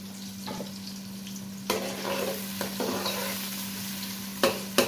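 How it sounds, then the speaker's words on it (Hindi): Onions fry in oil toward half brown for a daal mash dish, a steady close sizzle with a few sharp stirring scrapes of the spoon against the pan, no voices. "प्याज को हाफ ब्राउन कर लेंगे जी"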